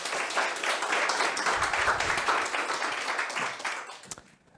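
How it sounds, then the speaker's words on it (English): Loud, sustained applause from a conference audience welcoming a speaker, clapping steadily before fading out at the end. "Please give him a warm round of applause."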